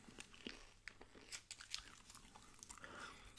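Close, quiet chewing of Wrigley's Extra gum with the mouth open, giving soft wet smacks and clicks in an irregular rhythm over a faint low hum.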